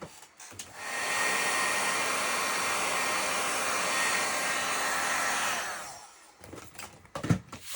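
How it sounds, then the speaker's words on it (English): A heat gun runs steadily for about five seconds to heat-set embossing powder on a card, a loud, even blowing roar that starts and stops abruptly, followed by a few light handling knocks. "let me go ahead and heat set this"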